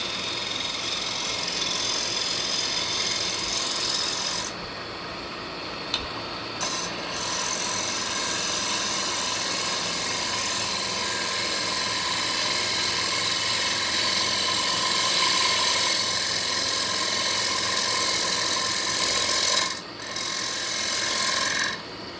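A 3/4 inch spindle gouge cuts koa wood spinning on a lathe for a small calabash bowl, a steady close scraping whir with a rough rasping texture that runs continuously, briefly easing twice as the tool lifts off.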